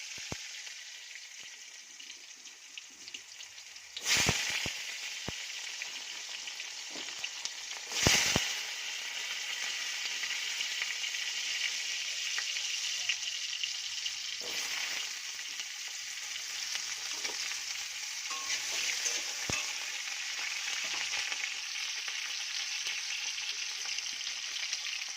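Cut potatoes fry in hot oil, giving a steady, close hiss of sizzling and crackling that lasts throughout. Two louder sharp bursts rise briefly near the start, and there is no talking.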